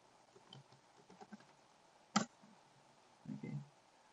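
Quiet, sparse keystrokes on a computer keyboard, a few soft scattered clicks, one sharper tap near the middle and a short cluster of presses toward the end, heard up close with no talking.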